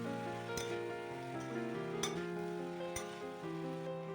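Ground spices being stirred into vegetables in a hot pan for a Bengali pui shak and fish-head dish, a soft continuous sizzle with occasional light clinks of the spoon against the pan, no talking.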